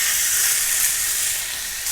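Pork stir-frying in a moderately heated frying pan gives a steady, loud, continuous sizzle and hiss that holds evenly throughout and dips slightly near the end, with no voices.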